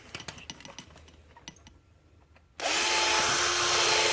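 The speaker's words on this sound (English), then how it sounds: "now I'm going to make the hole that's actually on the sender a tad bigger" After some clicks and handling taps, a power drill starts up abruptly and runs loud and steady at close range, enlarging a hole in a fuel pump sender.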